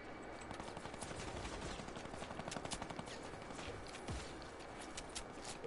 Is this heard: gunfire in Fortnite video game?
yes